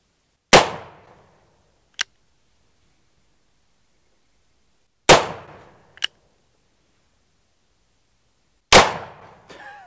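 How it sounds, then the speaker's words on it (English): A black powder revolver fired three times several seconds apart, each a sharp loud crack with a short decaying tail, plus fainter metallic clicks between shots, outdoors with no talking. "we're ready to shoot."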